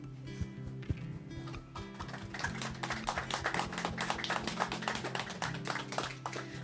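Wedding guests at a ceremony break into applause: dense, fairly soft clapping swells in after a couple of seconds and continues over a sustained low tonal backdrop.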